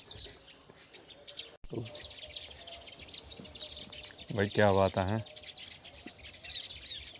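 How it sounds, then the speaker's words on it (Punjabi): Small birds chirp busily and continuously in the background, high and twittering, while someone speaks briefly over them. "ਦੇਖੋ ਚਿੜੀਆਂ ਚਿੜੀਆਂ ਬੁਲਾਈ ਜਾਂਦੇ ਆ"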